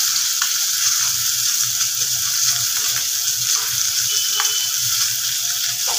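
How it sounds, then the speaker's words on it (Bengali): A fish head frying in hot oil for a cabbage dish, a dense close sizzle and crackle that holds steady and loud throughout, with occasional small pops and scraping, no voices. "এটা ভাজা হয়ে গেছে"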